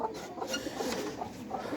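Domestic pigeons, including pure white birds, coo softly nearby in a loft, low rolling calls repeating under a faint background hum with no talking.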